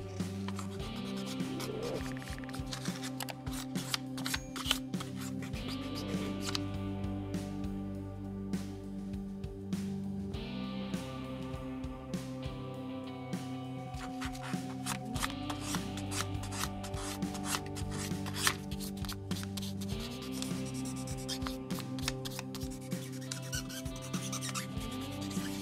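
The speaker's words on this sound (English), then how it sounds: "With all grits of sandpaper, we will sand and smooth the edges down to form a natural rounded transition." Sandpaper rubbing and smoothing the edges of a guitar nut on a Telecaster, a steady close scratchy rasping with repeated strokes, heard alone without any talking.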